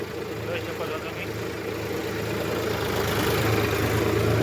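A tractor runs in a wet farm field near water, its engine a steady low rumble that grows slightly louder as it continues, with someone talking over it.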